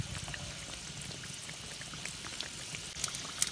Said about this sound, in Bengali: আস্তে আস্তে জাল দে, আস্তে আস্তে ভাজা লাগবে